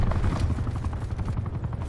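Attack helicopter in Black Ops 4 multiplayer on the Moonbase map, a loud rapid rotor chop thudding steadily, mixed with what sounds like bursts of gunfire.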